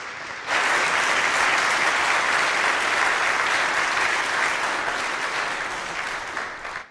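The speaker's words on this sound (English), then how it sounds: "please give an applaud to South Africa" An audience breaks into loud, sustained applause for South Africa, the dense clapping rising sharply after a brief moment and holding strong before easing slightly at the end.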